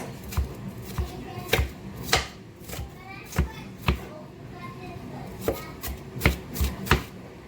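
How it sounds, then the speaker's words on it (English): A knife chops food into finer pieces on a board with repeated sharp, fairly close knocks in an irregular rhythm, roughly a dozen strikes, while a voice is faintly audible in the background. "I'm just going to chop it up into finer pieces"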